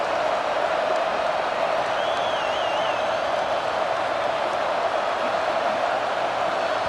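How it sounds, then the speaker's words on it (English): Steady stadium crowd roar from EA Sports College Football 26, a dense, continuous wall of cheering at even loudness throughout, with a faint whistle-like tone briefly rising above it. "the crowd forces a false start"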